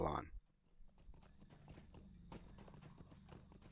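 Horse hooves clip-clop at a riding pace in a Lord of the Rings video game on the road south to Parth Galen, faint and steady under a quiet background after a brief louder burst at the start.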